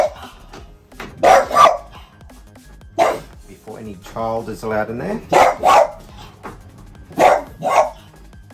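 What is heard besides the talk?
dog barking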